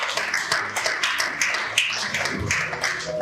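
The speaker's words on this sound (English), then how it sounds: "A round of applause for her one more time." Audience applause at a Nigerian small business awards event, a dense patter of many hands clapping steadily and fairly close, with no talking over it.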